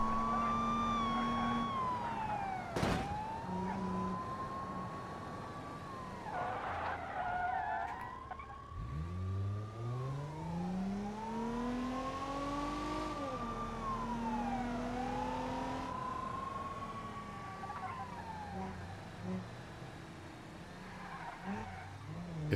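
Police sirens wail and sweep up and down while chasing a car in the BeamNG driving game in hardcore career mode, with steady engine drone and tire noise beneath; the sirens stay loud and close throughout, with no speech.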